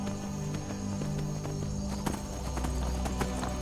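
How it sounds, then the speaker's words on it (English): Steady clip-clop of horse hooves while riding in the video game Skyrim, a continuous rhythmic trot over a constant layer of game ambience and music. "I'm just traveling by horse through going to the main objectives."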